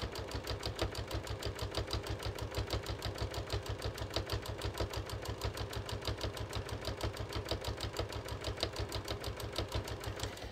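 A sewing machine stitches a straight line on a welt pocket, a steady rapid mechanical thumping at an even rhythm, close and continuous throughout.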